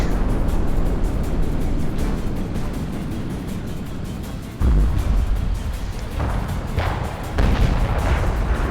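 Tank cannon fire in the World of Tanks game, a few heavy booms over a rumbling engine and battle ambience, with one sharp blast near the middle and more thumps toward the end.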